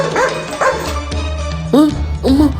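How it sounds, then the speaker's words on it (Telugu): Street dog barking repeatedly at close range, several sharp, loud barks in an uneven rhythm, with a person speaking in between. "కుక్క కుక్క వస్తుంది."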